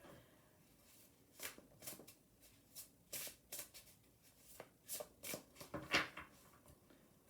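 Oracle cards being shuffled by hand in a quiet room, a run of crisp riffling bursts and soft slaps that quicken toward the end, close and fairly quiet, with no talking.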